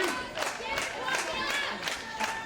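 A packed wrestling crowd in Huntsville, Alabama cheering and shouting in a continuous roar with scattered yells and claps, heard at a moderate distance.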